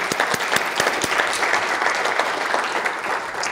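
An audience at a writers' award festival breaks into steady, sustained applause, dense clapping close by with no talk over it.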